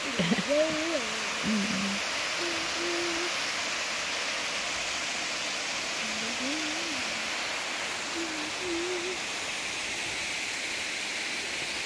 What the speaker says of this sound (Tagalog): Tubig, tubig, tubig